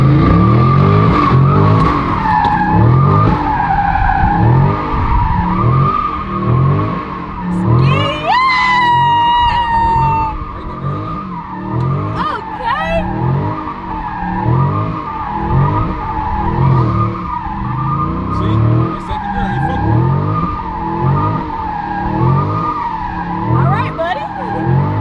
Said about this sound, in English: I'm just starting off with the burnout right now.